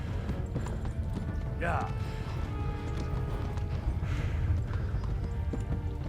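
Horse hooves clip-clop on the ground in the Kingdom Come Deliverance video game, a steady rhythmic trot with a brief whinny partway through, under a player's voice.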